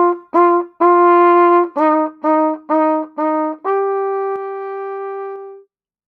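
A trumpet plays a short practice melody of about eight separate held notes, the last one sustained longest, sounding clear and close with no talking.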